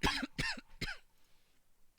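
Three quick close coughs in a row from someone with a persistent cough, each a short rasping burst, followed by near silence and the start of another cough at the end.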